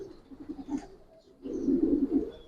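Giribaz pigeons cooing in a loft, with a run of soft, throaty coos near the start, a brief lull, then a louder, fuller burst of close cooing.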